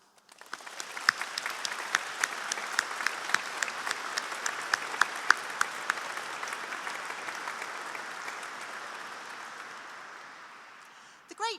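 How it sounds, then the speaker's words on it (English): Sustained applause from an audience at a University of Lincoln graduation ceremony, a dense field of clapping with sharp individual claps standing out, holding steady for about ten seconds before tapering off. "I'd like us to take this opportunity to give them a round of applause as well."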